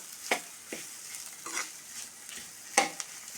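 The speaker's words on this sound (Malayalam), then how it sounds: "എല്ലാം കൂടി ഒന്ന് ഇളക്കി കൊടുക്കാം." Drumstick thoran frying in a pan gives a faint steady sizzle, broken by a few scraping stirs and sharper spoon-on-pan clinks, heard close and without talk.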